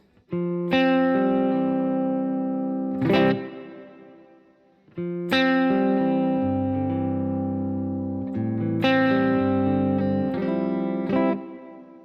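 Electric guitar strummed through a plate reverb switched from a Morningstar MC6 controller, three sustained chords ringing out with a long smooth wash of reverb trailing each one.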